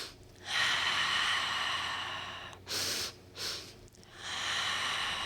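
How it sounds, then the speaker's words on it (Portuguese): Slow, deep breathing in through the nose and out through the mouth during a calming exercise: long airy inhales and exhales, close and fairly loud, alternating with short pauses and no talk. "Puxa pelo nariz, solta pela boca."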